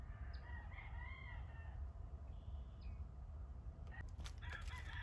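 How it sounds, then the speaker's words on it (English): A rooster crows at a distance outdoors beside a garden shed, a couple of faint drawn-out calls over steady low background rumble, followed by clattering noises. "Wow, that rooster is pissed off."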